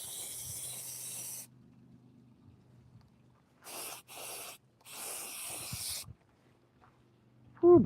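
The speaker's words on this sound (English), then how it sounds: "Really drench the base. Makes it a little bit seal better. Finish off some of the spray." Spray finish is laid on to drench a base in short hissing bursts, one long then two quick and one longer, separated by quiet pauses, close and moderately soft.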